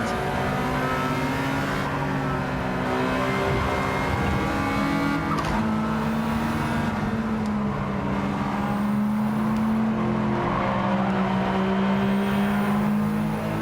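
An Aston Martin Vantage race car in a racing video game howls at steady high revs, its engine note sliding up and down through gear changes with tire squeal mixed in, loud and continuous throughout without any speech.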